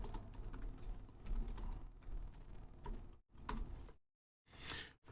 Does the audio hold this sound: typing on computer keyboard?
yes